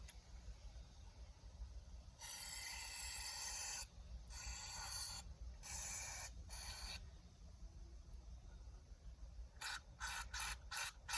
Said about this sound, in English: I'm spraying through anything I can spray through.